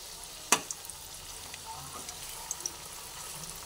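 Carrot koftas frying in hot oil as they are turned in the pan, a soft steady sizzle with one sharp clatter near the start and a few light taps and bubbles after.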